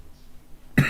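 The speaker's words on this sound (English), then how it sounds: "this cough is doing my head in" A single loud cough bursts out near the end after near silence, close and harsh.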